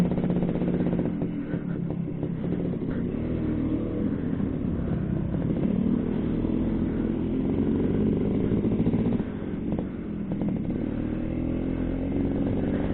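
A small 1989 Suzuki A100 two-stroke motorcycle engine, still cold, runs steadily while warming up, with a constant close buzzing drone and slight wavering in pitch and level throughout.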